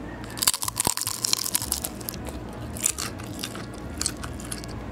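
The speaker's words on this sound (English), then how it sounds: "Just listen to the crunch." A crispy homemade meat-filled egg roll is bitten into close up, giving a few sharp, crackly crunches followed by quieter chewing, with no talking.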